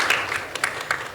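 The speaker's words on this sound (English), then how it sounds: "Oh, I got a clap." Sparse clapping rises from a small audience at a panel discussion on AI and copyright, a handful of separate claps spaced irregularly over about a second, fairly faint.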